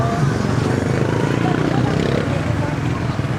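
Steady traffic roar along a highway beside a busy night market in Pangasinan, with motorcycle and car engines blending into a continuous loud wash under crowd babble.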